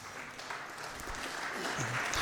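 An audience at a theological debate symposium applauds the debaters, a soft, steady wash of clapping that stays at an even, fairly quiet level throughout.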